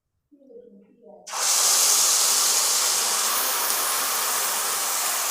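Masala hitting hot oil for a village-style Telugu fish curry, a sudden loud steady sizzle that bursts in after a moment of quiet and keeps hissing close up.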